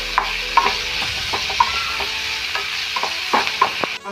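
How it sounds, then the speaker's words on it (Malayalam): Green chillies and onions sauté in a pan, a steady close sizzle broken by repeated scrapes and clicks of a spoon stirring, with no talk. "പച്ചമുളക് സവോളയൊക്കെ നന്നായിട്ട് വഴണ്ടു"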